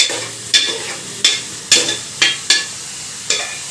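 Onions fry with salt and chili powder under a soft sizzle, while a spoon stirs and scrapes the pan in about seven sharp, evenly spaced strokes, close and alone.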